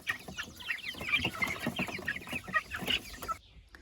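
Young chicks peep and cluck in a steady scatter of soft calls, fairly quiet and close, with no voices over them.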